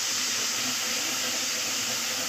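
Ginger, garlic and green chili paste frying in a pan, giving a constant bright sizzling hiss that holds steady throughout with no talking.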